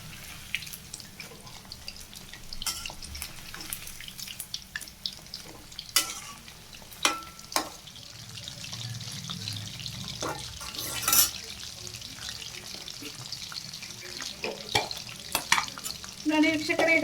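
Chicken kabab frying over a medium flame, with steady soft sizzling, occasional stirring scrapes and clinks, and sharp sputtering pops throughout, close and moderately loud with no talk.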